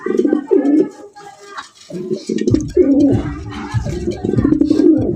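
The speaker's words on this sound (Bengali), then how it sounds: "ডাকের কি এক একটা নরের এক এক রকমের ডাকের স্টাইল," Domestic village pigeons in a loft coo repeatedly and loudly up close, several birds making overlapping throaty calls with faint chirps among them.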